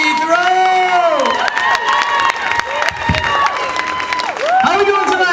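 A live audience at a comedy fundraiser cheering, whooping and applauding as a comedian is introduced, with loud sustained shouts and clapping and voices calling out over the crowd.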